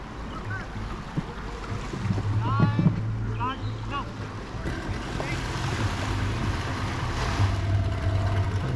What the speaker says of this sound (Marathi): आता ही जाईल इंजिन खाली टाकून.